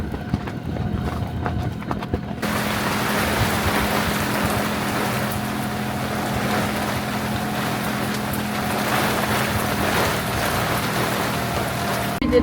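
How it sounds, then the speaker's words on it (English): Rain begins pelting a sailboat at sea during a sudden storm, a dense steady hiss of drops on deck and water that swells abruptly after a couple of seconds and holds loud and constant. "And now it starts to rain."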